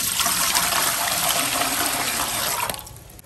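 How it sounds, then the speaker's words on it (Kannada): Water gushes from a tap into a steamer pot, a loud steady splashing stream that cuts off near the end, with no voices. "ಈಗ ಸ್ಟೀಮರ್ ತಗೊಂಡಿದ್ದೀನಿ, ಇದಕ್ಕೆ ನೀರನ್ನು ಹಾಕ್ತಾ ಇದ್ದೀನಿ."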